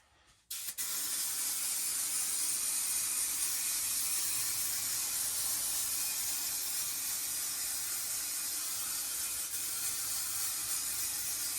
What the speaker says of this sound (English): Those are the areas that I need to spray.